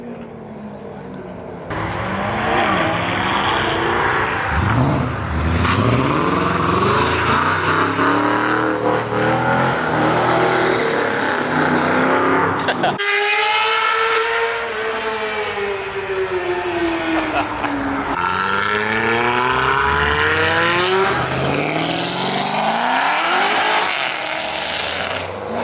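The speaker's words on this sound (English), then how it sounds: "These guys are ripping out of the show right now." Loud cars rip out of a car show one after another, engines revving hard and accelerating away with sharp rising and falling roars and some tire squeal, a voice talking excitedly between the passes.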